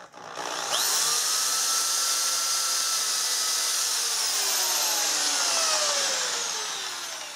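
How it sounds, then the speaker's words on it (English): A power drill fitted with a 1/8 inch bit whines steadily at high speed while boring starter holes in wood during a bathroom window installation, spinning up sharply and holding a loud, close, continuous pitch for several seconds. "I'm going to be drilling some starter holes so I don't split the wood"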